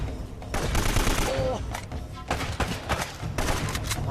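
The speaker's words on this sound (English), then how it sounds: "I like how you shot him like 4 times with blind fire" In the Uncharted video game, blind-fire gunshots hit an enemy as several loud, close bursts of rapid shots separated by short gaps, with a voice talking in between.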